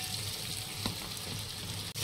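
Tomatoes cooking in a pan of curry in a home kitchen, a steady soft sizzle and bubbling hiss at low level, with a faint clink partway through and a brief drop near the end.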